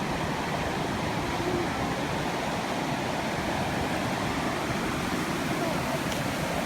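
A waterfall roars steadily and continuously, a dense, unbroken rush of falling water with no pauses, heard up close and fairly loud throughout.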